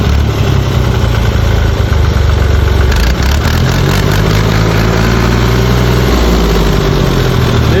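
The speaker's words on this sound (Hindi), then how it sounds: "ट्रैक्टर का जोर दिखाए" Tractor engine running loud and close, a steady low diesel rumble with a slight rise in revs partway through, no talk over it.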